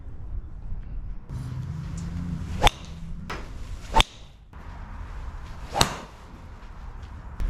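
Three sharp, dull impacts of a Decathlon Inesis 900 golf driver striking a ball, spaced a few seconds apart, each followed by a brief whoosh amid quiet outdoor background.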